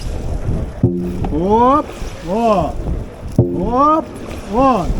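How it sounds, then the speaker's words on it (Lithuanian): Dragon boat crew paddles through water during training, blades catching in a couple of sharp splashy strokes. A voice calls out loud, rising and falling cries over a steady wind-like rush. "Įmetat irklą ir einat su savo svoriu."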